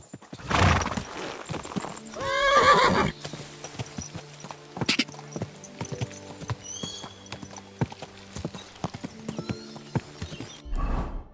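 Horse in the medieval game Kingdom Come Deliverance 2 clip-clopping along with hoofbeats, giving a clear whinny early on, then walking on with steady, moderately close hoof clops and a few softer knocks.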